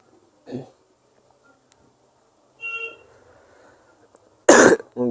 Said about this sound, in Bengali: গলায় কাশি হইছে